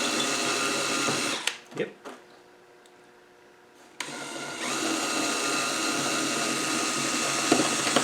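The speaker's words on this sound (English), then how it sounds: "To get the rivets off, just turn your drill at the side, you'll soon get them off." A hand drill whirs as it drills out the rivets on an old Land Rover horn push, running loud and close, pausing briefly, then starting again and droning steadily, with a short spoken word early on.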